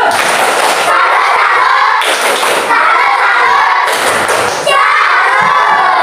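Schoolchildren in a classroom perform a rhythmic salute clap, three loud bursts of clapping, thumping and shouted chanting in unison, each separated by a brief lull of voices.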